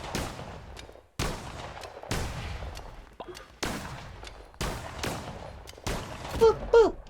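Repeated gunshots from a gun in a video game, sharp loud bursts spaced about a second apart, each decaying quickly, with brief faint voice sounds near the end.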